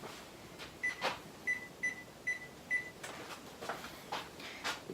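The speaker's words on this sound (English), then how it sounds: "I'm gonna go ahead and preheat my oven to about 375" An oven being set to preheat to about 375 gives five short, evenly spaced electronic beeps, clear and close, over a quiet room with faint soft bumps.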